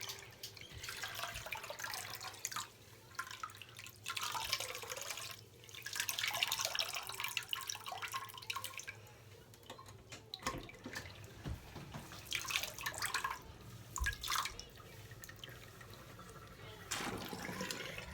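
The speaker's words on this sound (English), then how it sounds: "I turn the water on, cool, and just let the water run over the strands" Cool tap water runs steadily over synthetic wig strands in a sink, a continuous close rush that swells and dips with brief pauses, heard under quiet talk.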